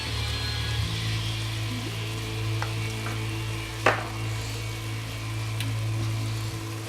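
Garlic and black pepper sizzling in a soup pot for potato morel soup, a steady close frying hiss with a faint low hum underneath and an occasional sharp clink of a utensil.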